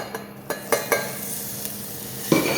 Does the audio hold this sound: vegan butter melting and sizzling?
yes